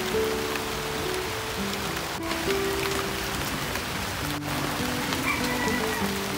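Rain falls steadily outdoors at a countryside home in Vietnam, a constant patter of drops on surfaces, with faint tonal background sounds mixed in and no talking.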